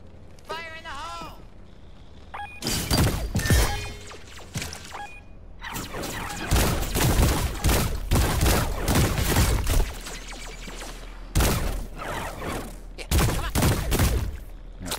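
Grenade blast and gunfire in the video game High On Life, loud bursts of shots and booms over roughly twelve seconds, with a voice talking over much of the action.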